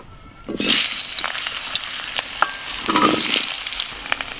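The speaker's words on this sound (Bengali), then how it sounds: "মাংস রান্না করার আগে প্রথমে আমি আলুটা ভেজে নিচ্ছি।" Potato pieces drop into hot mustard oil in a wok and burst into a loud sizzle, then crackle and hiss unevenly as they are stirred, with a second surge of sizzling later.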